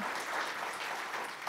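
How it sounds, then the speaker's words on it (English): An audience at an evening community talk claps for a panel, a continuous, even patter of applause at moderate volume with no voices. "give a round of applause for our panel"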